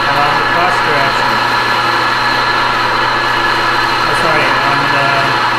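Machine tool spindle running with the power feed engaged along the cross direction while a practice piece is cut, a steady mechanical hum and whir throughout, loud and close.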